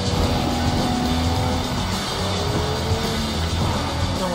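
A car in the Sleeping Dogs video game drives out of control, with a steady loud engine roar and tire noise that runs throughout, close and unbroken.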